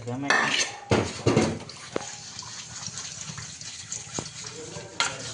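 Dishes and pots clatter and clink as they are washed by hand, with sharp metallic knocks over a splashing, trickling background, up close and moderately loud, with a voice briefly present.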